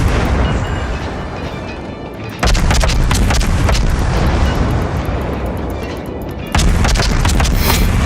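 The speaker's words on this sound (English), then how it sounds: "Fine, I'll shoot right at your ship." Naval gunfire in World of Warships, two heavy booming salvos landing at about two and a half and six and a half seconds over a loud, rumbling, continuous battle roar, no voices.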